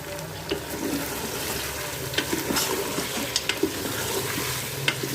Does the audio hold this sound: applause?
no